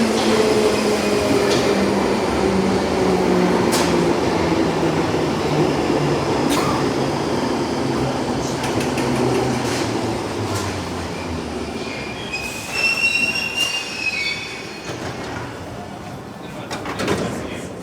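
A London Underground Bakerloo line train runs between Charing Cross and Oxford Circus, with a loud continuous rumble, rising wheel squeals and clattering that ease slightly toward the end as the carriage rolls on.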